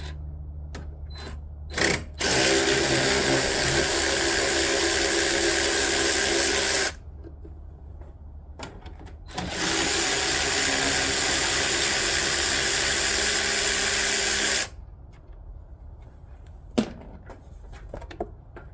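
A power tool loosens air box bolts on a 2014 Hyundai Sonata 2.0T, two long steady whirring runs of several seconds each, close and loud, separated by quiet gaps with small clicks and no talking.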